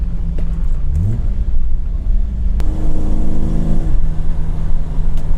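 BMW E34 M5 fitted with a standalone ECU, its engine rumbling steadily with a brief rev and tonal whine partway through, close and loud with no talking.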